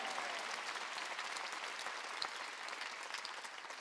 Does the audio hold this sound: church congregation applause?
yes